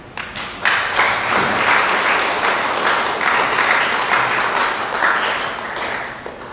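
A church congregation at Sunday worship breaks into steady, full applause, many hands clapping together for several seconds before tapering off, with faint voices beneath.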